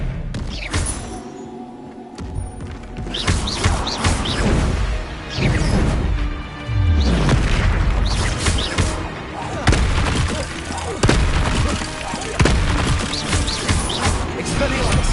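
Expelliarmus spell casting in Hogwarts Legacy, a run of loud thumping magical impacts and bursts amid game clamor, with a voice speaking over parts of it.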